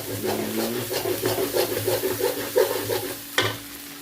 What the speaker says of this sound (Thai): ไฟอ่อนก่อนปัดพริกให้หอมก่อน